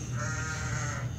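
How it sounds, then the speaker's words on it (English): A cartoon sheep character in the mobile game Crossy Road gives a drawn-out bleat, clear and close over a soft steady background tone. "How about the sheep?"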